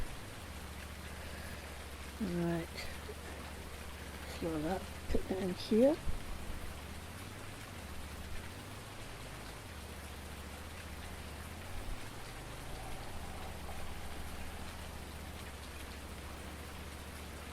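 Steady rain falls on a farm, a constant close patter that runs the whole way through while someone talks at intervals over it.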